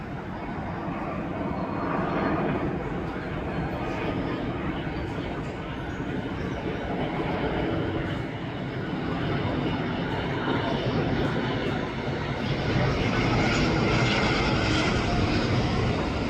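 Airplanes passing overhead one after another near Rockdale Beach, a loud continuous roar of jet engines that swells and holds for the whole stretch, with wind and a low rumble and no talk.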